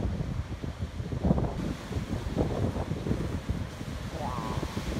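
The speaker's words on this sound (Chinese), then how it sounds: "等一下我慢慢把那个海浪拍给你们看一下啊" Large sea waves crashing on a shore, a continuous rough roar of surf mixed with heavy wind buffeting against the microphone, loud and close throughout with no clear speech.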